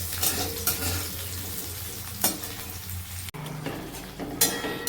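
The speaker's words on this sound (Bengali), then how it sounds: "এদিকে এই যে মশলাটা কষিয়ে নিয়েছি কষানো চলছে এখনও" Spice masala being fried down in a home kitchen pan, with steady sizzling and scraping stirs throughout and a few sharper clinks of the spoon against the pan.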